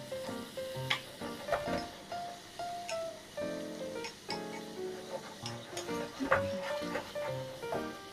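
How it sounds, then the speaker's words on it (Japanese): Oil frying in a pan as the pan is swirled to cook evenly, a steady crackling sizzle under someone speaking Japanese. "よく油を、こう鍋を、回しながら平均にこう火が通るように"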